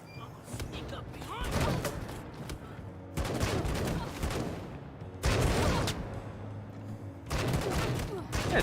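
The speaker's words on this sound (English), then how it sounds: "turrets are putting in good work here" Turrets fire in bursts of rapid gunfire during a battle in the video game Wasteland 3, with loud repeated volleys separated by brief lulls, while a person talks over the action.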